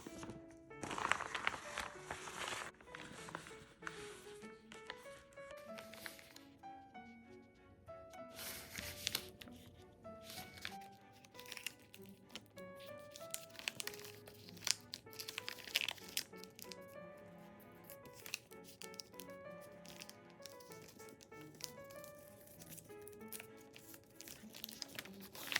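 Woven rice or feed bag panel being folded and crinkled, a close, faint series of crisp rustles, crackles and plastic crunches in irregular bursts.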